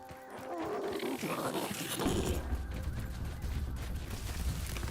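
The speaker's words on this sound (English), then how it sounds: "No way that sneak dog saw me, dude." A dog creature growls in a video game, a deep rough rumble that rises after a brief quiet opening and holds steady, with no voices.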